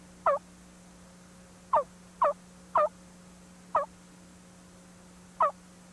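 Slow, widely spaced yelps from a hand-operated turkey call imitating a deep, coarse, throaty tom, six short raspy notes over a faint steady hum.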